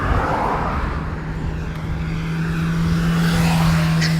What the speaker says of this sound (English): Except we got car and motorcycle sounds now.